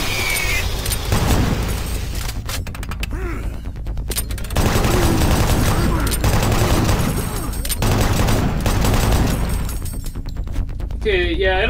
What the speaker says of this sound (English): A chain gun?